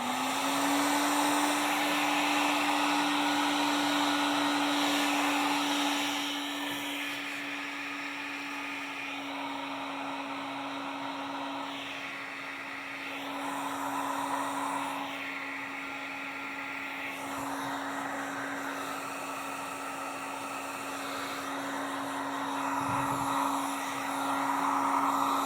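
A heat gun blows hot air to melt wax on the toe of a Thorogood boot, producing a steady close whirring roar with a constant hum that runs throughout, shifting slightly as it moves.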